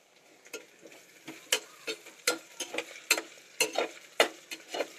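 Potato pieces dropped into a pan and frying for chitranna, giving a series of sharp clattering scrapes and brief sizzling bursts at a steady, uneven rhythm, fairly close, with no talk.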